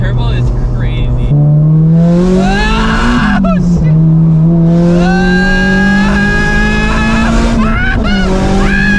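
A turbocharged Subaru BRZ making over 500 horsepower accelerates hard, its loud engine note climbing through rising revs, dropping at gear shifts and climbing again, heard from inside with voices over it.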